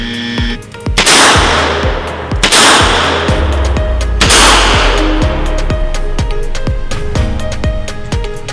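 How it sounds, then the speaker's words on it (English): Gunshots from a Smith & Wesson Model 10 revolver at a shooting range, several loud sharp reports in quick clusters with ringing echo and other shots cracking in the background. "I need to fire 2 rounds to the body and 1 round to the head in"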